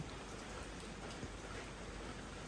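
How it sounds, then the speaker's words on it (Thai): Heavy rain pouring down at night, a dense steady hiss of drops hitting surfaces, continuous and even with no voices. "ฝนมันสิตกแบบนี้แหละ"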